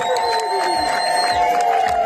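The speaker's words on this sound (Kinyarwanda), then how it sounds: "Aba badamu rwose bamuterera impundu." High, sustained trilling ululation from several women welcoming a bride at a Rwandan wedding, a shrill wavering cry carried over a cheering crowd.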